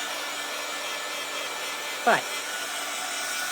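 A steady, even blowing roar like a small heat dryer runs throughout, with a brief spoken word partway through.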